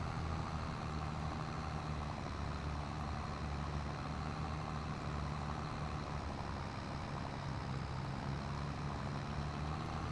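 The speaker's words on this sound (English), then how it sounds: "So far, this tractor seems to be pulling this ripper pretty good here." A heavy tractor engine in Farming Simulator 22 drones steadily while pulling a ripper across a field, a loud, constant low rumble with no breaks and no voices.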